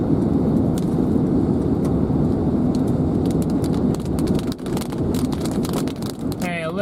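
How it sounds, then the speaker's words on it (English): Light monsoon rain shower in the southeast Arizona desert, a steady hiss of drops pattering around a vehicle, with scattered sharper taps and wind buffeting throughout and a brief voice near the end. "Hey, a little shower"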